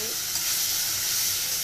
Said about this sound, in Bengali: আলুগুলো ছেড়ে দেবো। দিয়ে